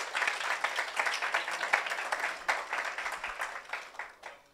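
Audience at a software conference claps for a few seconds, the scattered claps of a modest crowd thinning toward the end, moderately quiet and heard alone.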